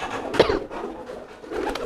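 A domestic racing pigeon that has just had its eggs removed coos close by, two soft throaty bursts separated by a short pause.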